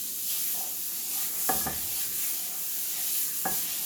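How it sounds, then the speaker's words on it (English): Beef strip steak sizzles steadily in brown butter, a constant bright frying hiss with a few quick scraping stirs, close and alone. "you see how this steak is cooking up? Really good in your brown butter."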